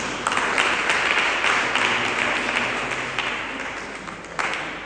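A church congregation applauding, a dense sustained round of clapping from many hands filling the room for several seconds.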